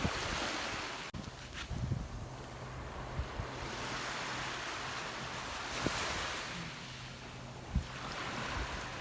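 Steady rush of surf washing up on a beach at Cape May, broad and continuous with wind noise buffeting the microphone and a few soft knocks.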